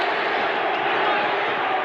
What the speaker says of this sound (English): Crowd trying to urge on the Boston Celtics